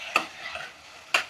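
Beetroot being stirred in a pan, a quiet bed of light frying hiss with two sharp spoon scrapes or taps about a second apart.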